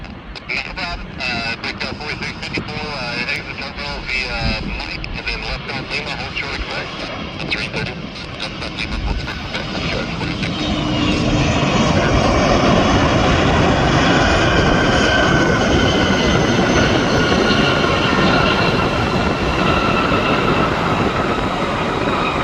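Jet airliner taking off at Louisville SDF airport, a loud roar that swells about halfway through and holds steady, broad and rumbling with a high whine on top, heard from nearby with no talk.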